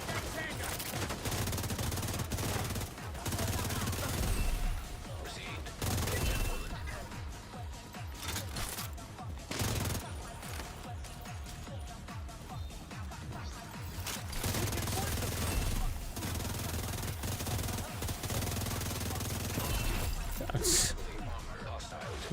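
Gunfire in The Division 2 plays as repeated bursts and rapid volleys of shots across a long stretch of game action, some close and sharp, others quieter and scattered, with a voice talking at times.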